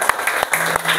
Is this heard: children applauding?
yes